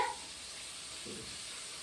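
Koi fish fry in oil for a tel koi dish, giving a faint, steady sizzle that runs close and unbroken, with a brief clink near the start.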